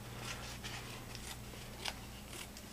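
Scissors snipping off excess Tyvek tape strip, several soft, close crisp cuts spaced apart over a steady low hum, no talking.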